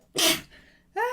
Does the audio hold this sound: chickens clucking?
no